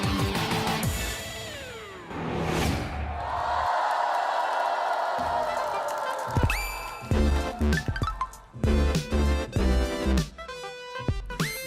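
Audience applause and cheers fill the hall at a Cantonese singing contest, building loudly in the opening seconds before giving way to a band playing with strong beats and bright stage music.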